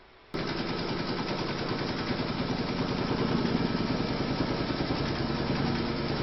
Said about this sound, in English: Load whichever colour you're going to use for your roof into your machine, and then you're going to stitch round number 12